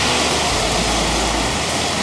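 Rain falling outside a roadside dhaba, a dense, steady hiss of downpour filling the whole moment with no voices, loud and continuous.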